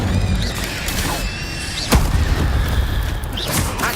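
The Incendio fire spell being cast in the video game Hogwarts Legacy during a fight with spiders, a loud whooshing burst with a sharp booming crack amid ongoing combat effects and rumbling.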